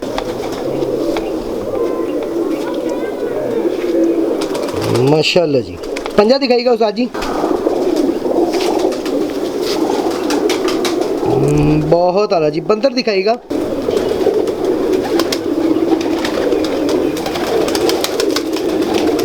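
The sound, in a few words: pigeons cooing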